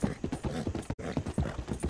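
Horse hooves clip-clop in a steady, quick rhythm in Red Dead Redemption 2, close and fairly quiet, with one brief gap partway through and no talk.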